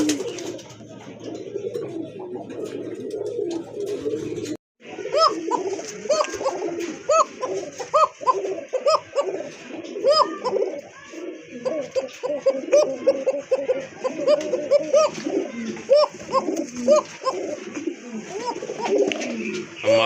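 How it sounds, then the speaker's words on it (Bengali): A pair of bright red Koka pigeons coo repeatedly at close range, soft throaty calls in an uneven rhythm, with people's voices mixed in underneath. "দেখেন টকটকে লাল এক জোড়া কোকা কবুতর, ডাক তো দেখলেনি"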